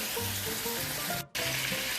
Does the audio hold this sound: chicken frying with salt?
yes